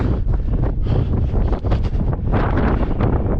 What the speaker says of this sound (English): The wind is slurring my words.